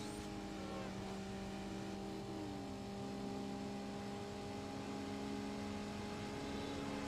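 Engine of a street car in Need for Speed Underground droning steadily with strong sustained tones, rising slightly as it accelerates on nitrous boost, loud and continuous with no talk.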